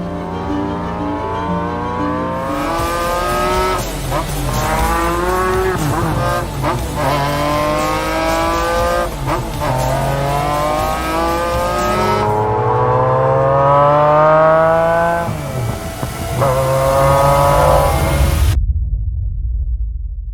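A McLaren F1 sports car engine revs hard and drives by, with loud rising and falling howls, repeated upshifts and sweeping pitch changes, and a brief tyre squeal, ending in a sudden cut to silence.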